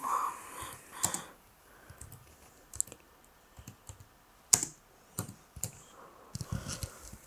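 Someone types on a computer keyboard nearby, making quiet scattered clicks and short bursts of keystrokes with pauses between them.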